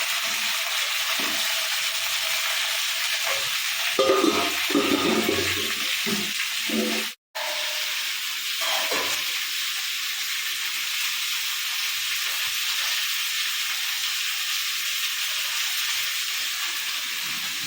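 Crab frying in oil in a pot for a crab gravy, a loud continuous hiss and sizzle close by, briefly broken by a sharp gap before the steady frying resumes.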